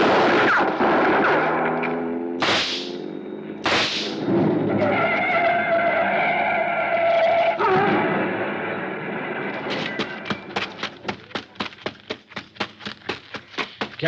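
Gunshots ring out in an old-time radio detective drama, a pair of loud echoing blasts followed by a rapid string of sharp shots, set against a dramatic musical background.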